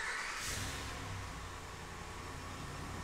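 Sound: 2011 Dodge Ram engine remote starting

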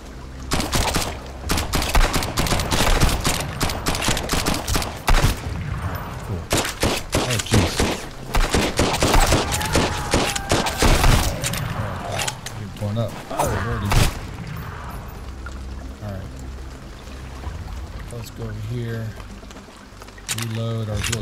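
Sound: shotgun gunfire in Sunkenland video game

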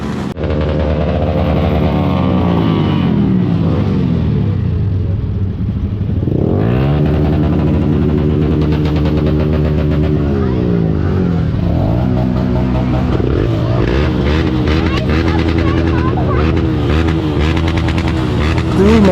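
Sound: motorcycle exhaust revving

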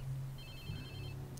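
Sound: phone ringing in video game Watch Dogs 2

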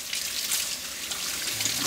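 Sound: rinsing a pipe with hot tap water

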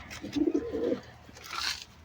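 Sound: pigeons cooing

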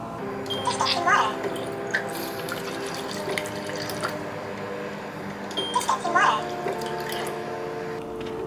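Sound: pouring warm water into bowl

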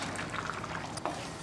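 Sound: pouring ground coconut paste into boiling cauliflower kootu

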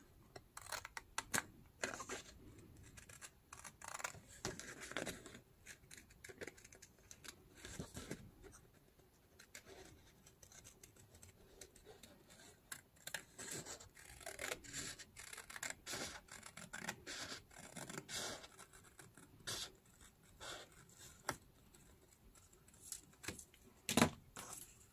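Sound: scissors cutting paper pattern

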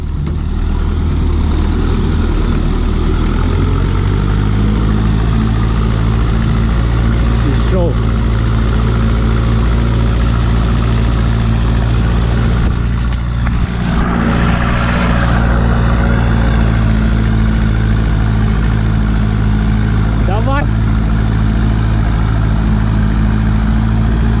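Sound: tractor engine revving in a field

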